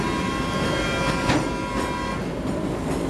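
A train rumbles steadily along railway tracks beside Belawan market, a loud, continuous low roar with faint wheel clatter and a brief tonal hint, no speech.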